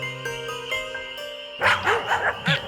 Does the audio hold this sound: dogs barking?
yes